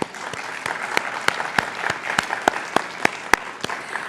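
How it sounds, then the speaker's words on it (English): A small audience at a university lecture event claps, sparse distinct hand claps in an uneven rhythm over a light background murmur, fairly close. "Please give her a warm round of applause."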